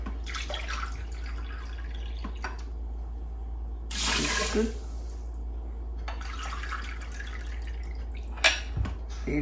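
Hot water pours briefly into a pot of langar-style mixed dal, splashing and then dripping, over a constant low electrical hum in a home kitchen.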